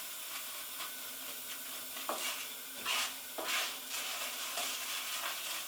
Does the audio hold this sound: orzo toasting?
yes